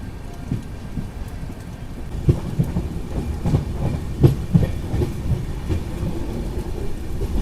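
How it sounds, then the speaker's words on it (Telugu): Steady heavy rain near Madanapalle hisses continuously as heard from inside a moving train, with low rumbling and irregular knocks running underneath throughout. "వర్షం అయితే మాత్రం రేంజ్లో అయితే పడుతుంది ఇక్కడంతా."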